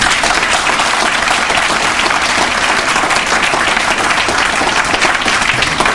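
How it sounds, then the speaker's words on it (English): Loud, dense audience applause at an anniversary event, steady sustained clapping from a large crowd filling the whole stretch without pause. "Now that's worth a lot of applause."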